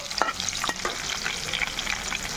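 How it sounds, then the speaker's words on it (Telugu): Onion fries in a pan for methi carrot tomato rice, a close, steady sizzle with light stirring scrapes throughout. "ఉల్లిపాయ కూడా వేగిపోయింది కదా"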